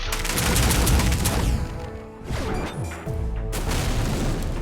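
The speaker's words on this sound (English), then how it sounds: "Yep, that is an absolutely massive explosion." Rocket launcher blasts in Bionicle Heroes: loud, close booming explosions with crashing debris and a brief lull, then another heavy blast and a rumbling tail.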